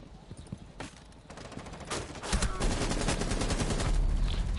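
Gunfire from a Ubisoft shooter game: bursts of rapid shots that build from sparse cracks into a dense, loud barrage, with a voice faintly under it.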